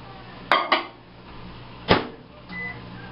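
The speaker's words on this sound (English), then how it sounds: "throw my water in the microwave" Microwave oven being used to heat a cup of water: a few sharp clunks of the door and dish, a hollow knock, then the low hum of the oven starting, all near and fairly clear with no talk.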